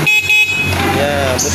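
A Rusi Bolt 125 motorcycle horn gives a steady, close honk while someone talks nearby.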